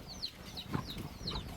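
Chickens at a rural Thai home, where rice is being unloaded, make soft, repeated clucking calls against a low outdoor background. The sound is moderately faint and steady, with no talking.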